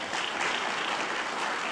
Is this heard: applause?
yes